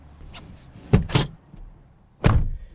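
Rear door of a 2025 Mazda CX-70 Turbo S SUV with an inline-six, heard close as a series of solid door clunks and thumps, three main impacts spaced over a couple of seconds.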